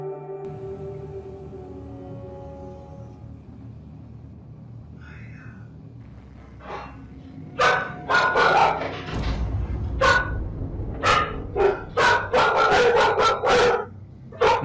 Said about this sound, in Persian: ناگهان سگ‌ها شروع میکنن به پارس کردن